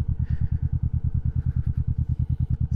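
A Kawasaki Vulcan 650 S motorcycle engine thuds in a steady, even rhythm while riding, its close exhaust pulse loud and continuous with no talk.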